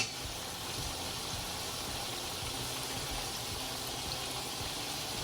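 A beef kofta curry base cooking down over high heat, a steady hissing sizzle that stays even and fairly quiet throughout with no talking.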